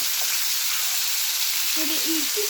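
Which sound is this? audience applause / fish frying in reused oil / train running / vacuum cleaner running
fish frying in reused oil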